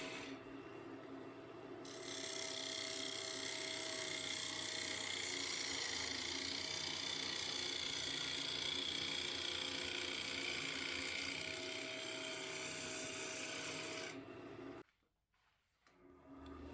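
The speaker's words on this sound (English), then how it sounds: "The wood will cut away nicely like that." A gouge cuts a spinning maple bowl on a lathe, giving a steady, loud rasping hiss that starts after about two seconds, holds for some twelve seconds, then stops abruptly and leaves the lathe running quietly.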